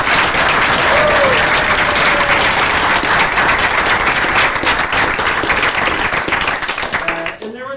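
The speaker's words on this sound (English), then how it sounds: "And so if you could join me in a round of applause." An audience at a school board of education meeting claps in a sustained round of applause, full and close, with brief voices mixed in and the clapping thinning out at the very end.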